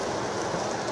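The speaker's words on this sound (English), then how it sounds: "In fact, it's pouring down with rain." Pouring rain heard from inside a car on a wet day: a dense, steady hiss and patter of drops on the roof and windows, even and close throughout, with no talk.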